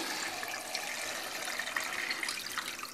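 About three litres of water pour steadily into a cooking pot for a broth, a continuous splashing gush, close and moderately quiet, with no voices.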